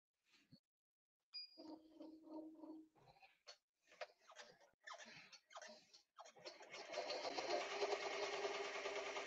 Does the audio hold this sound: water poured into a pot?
no